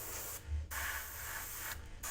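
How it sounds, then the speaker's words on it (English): An airbrush sprays dark purple paint onto a miniature model from above, a steady close hiss broken by two short pauses, with no talk. "So I'm also spraying from above."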